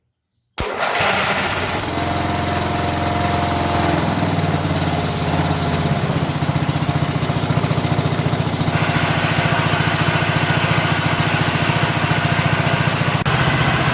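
A small John Deere lawn tractor engine cranks on choke and catches abruptly, then settles into a loud, steady, rattling run close by, with no talking over it.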